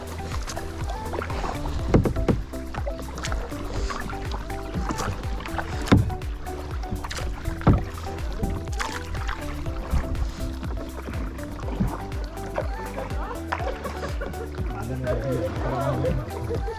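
Kayak paddling on water in the Spreewald, Germany, with steady paddle strokes and splashes, light knocks against the hull at about 2, 6 and 7.7 seconds, and people talking throughout.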